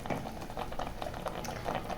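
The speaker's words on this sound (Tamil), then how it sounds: "இப்போ இந்த அரைச்ச விழுது நல்லா கொதிக்கட்டும், பச்சை வாசனை போக நல்லா கொதிக்கட்டும்." Ground masala paste with oil and turmeric boiling in a cooker pot during Chana Masala cooking, a steady close bubbling and popping patter that runs continuously with no voices.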